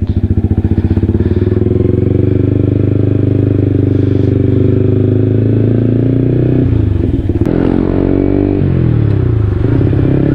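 Drag race motorcycle on a road in Mangatarem, Pangasinan, revving loudly and continuously up close, its rough engine note steady for most of the stretch before shifting pitch near the end.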